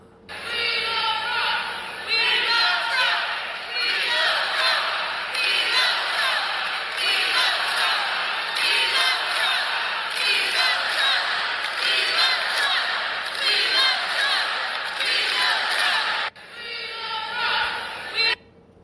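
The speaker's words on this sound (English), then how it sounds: "that was a crowd in the theater where Trump is going to be speaking to this evening for the GOP convention in South Dakota" A crowd in a theater at a GOP convention in South Dakota cheers and whoops loudly in rolling waves, chanting swells rising and falling before a brief dip near the end.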